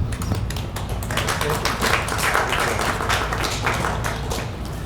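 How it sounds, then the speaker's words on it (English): Applause from an audience at a meeting of Hispanic leaders on the COVID-19 pandemic, a dense steady patter of clapping that holds at a fairly loud level for several seconds. "Can we give him another round of applause for coming all the way from Quincy?"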